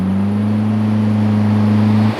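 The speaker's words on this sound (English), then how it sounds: "the roar of an engine" A car engine roaring in a horror audio drama, a loud close sustained low drone with steady harmonic tones holding for about two seconds before cutting off abruptly, nothing else heard.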